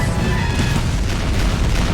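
A sustained, loud explosion in the Team Fortress 2 Meet the Demoman short, a dense rumbling roar that fills the whole moment without pause and with no talking over it.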